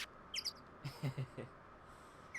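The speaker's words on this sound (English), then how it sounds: "Oh, it's just a bird. It's ambient noise." Faint ambient bird chirps from the Phoenix Wright Ace Attorney video game, two or three quick high tweets early on, followed by quiet murmuring sounds.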